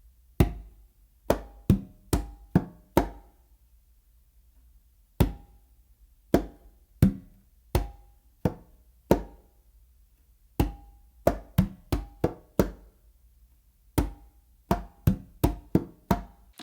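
Congas struck in a palm and fingertip independence exercise, sharp hand slaps and taps in grouped bursts with short pauses, close and alone.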